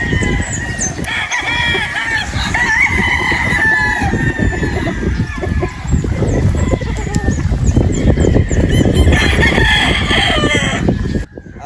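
Lemon sweater gamefowl chickens, including a pullet, at a game farm give repeated clucks and crowing calls close by over constant rustling and scratching noise.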